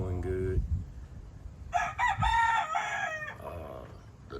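Gamefowl roosters in breeding season: a loud nearby cock-a-doodle-doo crow fills the middle, preceded by a short clucking call and followed by fainter crowing from another bird, with low rustling background.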